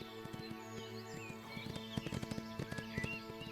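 Hooves clip-clop in a steady rhythm as a horse is ridden in the game Windstorm, the beat growing louder and more distinct over a sustained musical background.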